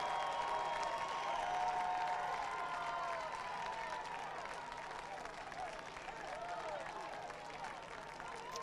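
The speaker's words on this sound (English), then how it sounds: "And a cheer from the Davidson faithful." Davidson home fans cheering and clapping at a college football game against Presbyterian, a broad, steady crowd roar with applause and scattered whistles and voices, heard at a distance.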